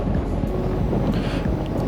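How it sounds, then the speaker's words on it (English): Strong wind buffets the microphone at Papagayo Beach on Lanzarote, a steady loud low roar with gusty rumble and no speech. "Certainly windy."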